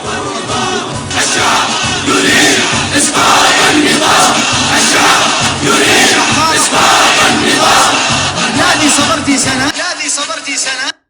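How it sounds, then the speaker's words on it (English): A huge protest crowd in Cairo chants in Arabic in loud, rhythmic unison, voices surging in repeated phrases for about ten seconds before cutting off abruptly. "Here's another example of that from Cairo with the chant that became the central chant of that distributed."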